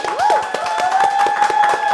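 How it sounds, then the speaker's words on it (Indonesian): An audience claps in a podcast studio, a dense patter of hands at close range that runs continuously under tonal voices and whoops. "Boleh tepuk tangan dong teman-teman?"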